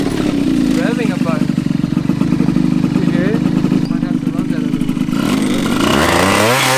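A 72cc Honda Elite Dio scooter build with a Polini Corsa kit and Arrow exhaust pipe revs loudly up close, a raspy sustained two-stroke buzz that dips briefly before climbing again near the end.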